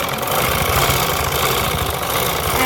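A sewing machine runs continuously while stitching a girl's frock, giving a steady, loud mechanical whir with a fast rhythmic chatter and no voices.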